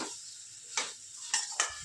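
A spoon scrapes and stirs flat beans in a pan: a few separate, sharp clatters over a soft background of frying, heard close up with no voices.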